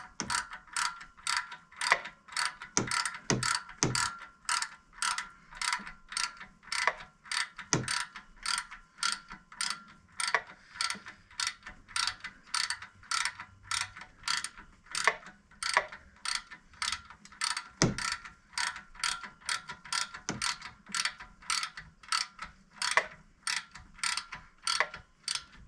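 A ratchet tightens the A/C pump mounting bolts on a 1976 Corvette with a steady run of sharp, close clicks in short, even strokes for nearly the whole stretch, and no voices.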